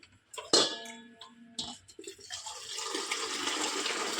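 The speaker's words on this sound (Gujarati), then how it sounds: "ઉપરથી ધાર કરવાની પાણી." Water is poured over fenugreek leaves being washed, a close, steady rushing pour that builds and continues after a few brief clinks and knocks at the start.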